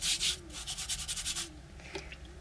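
Tiles on an outdoor terrace scrubbed with vinegar to lift surface limescale deposits, a close, rhythmic back-and-forth rubbing in quick strokes that slows and fades toward the end, with no talking.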